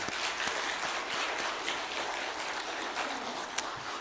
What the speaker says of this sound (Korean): 우리 격려와 또 위로의 박수를 한번 보내겠습니다